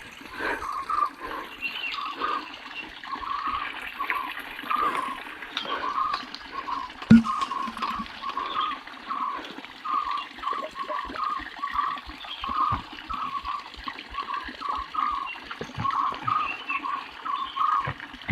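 Water runs steadily into a container at a mountain water point on the Velliangiri trek, where a young boy is collecting it, with continuous close splashing and trickling throughout.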